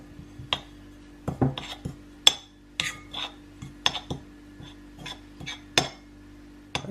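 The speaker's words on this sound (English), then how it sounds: "Now let us stir in the sugar into the crumbs" Sugar being stirred into biscuit crumbs in a bowl for a strawberry tart base: a spoon clinks and scrapes against the bowl in irregular, crisp taps, close and fairly clear, with no talking.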